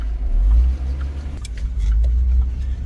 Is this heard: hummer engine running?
yes